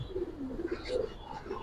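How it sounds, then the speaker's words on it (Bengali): Giribaz pigeons coo in soft, low, repeated murmurs at close range, with a brief higher chirp in the middle and a faint background hum. "মাদি কবুতর ভাই, নর আছে ভাই"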